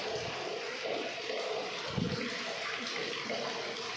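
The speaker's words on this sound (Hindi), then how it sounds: "और पानी बंद कर देते हैं बहुत देर से, ये भर जाएगा ज़्यादा ही।" Tap water runs steadily into a container at home, a constant broadband rush with a brief splash partway through, heard on its own without talk.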